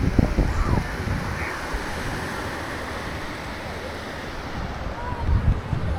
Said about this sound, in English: Nice breeze.